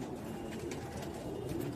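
Old Sialkoti pigeons cooing on a rooftop terrace, a steady, close, low-pitched burbling coo that continues throughout the short clip, with no voices.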